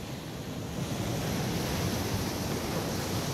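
Sea waves at Fortaleza Santa Teresa, Uruguay, wash in as a steady, soft, broadband rush of surf that swells slightly partway through, fairly quiet and continuous, with no voices.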